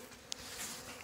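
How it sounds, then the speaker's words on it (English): A honey bee swarm buzzes in a steady, dense drone close by, with a few sharper clicks from bees near the hive during a swarm transfer. "So there's still a mess of bees in here."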